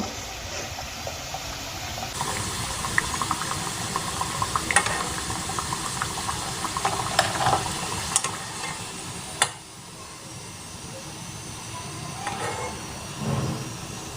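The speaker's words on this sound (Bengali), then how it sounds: "একইভাবে বাকি কচুরিগুলো আমি ভেজে নেব" Potato kachuri frying in hot oil, a steady bubbling sizzle that runs for about nine seconds and then drops to a quieter, fainter simmer.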